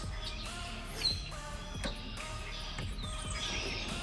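Several birds chirp and tweet in short, scattered calls against a faint background, fairly quiet and somewhat distant.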